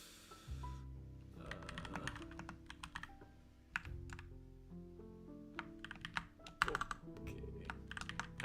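Typing on a computer keyboard during coding work, sparse clusters of quiet clicking keystrokes with pauses between bursts, with background music underneath and no talk.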